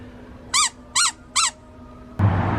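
A squeezable Sasquatch toy squeaks three times in a steady rhythm, each squeak short and close, before a louder rustling thump ends the clip.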